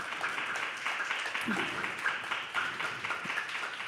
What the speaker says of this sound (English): we would like to give a big round of applause to Jai Madhav Prabhu and his team from launching this app